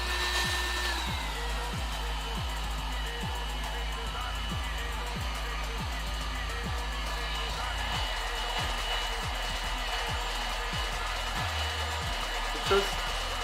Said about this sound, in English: if you got the heat gun, you make the temperature at 100 degrees or 200 just, and you just heat it up a bit